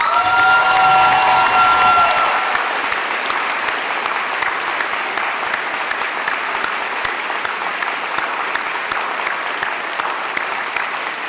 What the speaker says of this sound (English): But give her a round of applause.